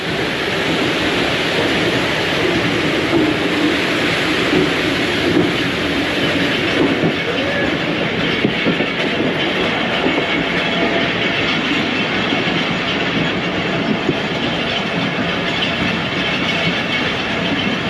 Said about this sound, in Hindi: दोस्तों ये चल पड़ी है ट्रेन।